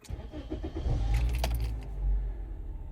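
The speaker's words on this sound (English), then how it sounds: "now we're gonna start the car and put the backup." A car engine starts after a brief jangle of keys, the motor cranking and catching into a low, close rumble that swells and then settles to an idle.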